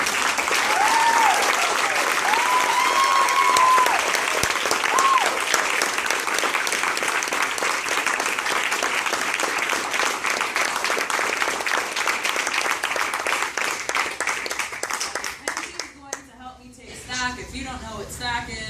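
A crowd at a 21st anniversary homecoming event applauds Phil after a panel: loud, sustained clapping with a few whoops, running steadily before fading out near the end as a voice begins.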